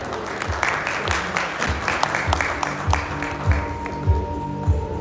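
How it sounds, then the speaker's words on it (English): A crowd applauds at an agricultural business event honoring a guest, with steady clapping throughout and a voice speaking briefly over it. "Let's have a round of applause, ladies and gentlemen, please."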